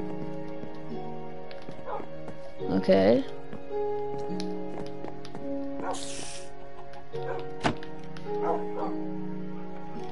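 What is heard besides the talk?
dog barking in Minecraft video game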